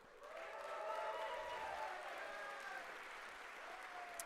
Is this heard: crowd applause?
yes